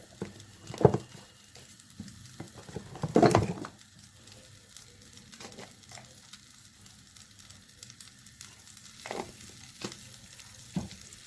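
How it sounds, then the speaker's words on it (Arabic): Beef liver sautés with a little chili pepper in a hot pan, giving a soft continuous sizzle broken by louder bursts of frying and stirring, heard close up without talking. "هننزل بيها نشوحها الاول مع سنه فلفل"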